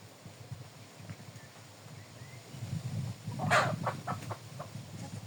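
Bearded, crested, feather-footed chickens cluck softly in the background, a few short calls rising briefly over a low farmyard hum.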